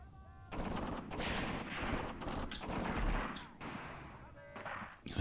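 Mortar shells landing in the World War II game Tank Warfare: Tunisia 1943, heard as a string of heavy booming blasts and rumbling impacts that rise and fall over several seconds amid battle noise.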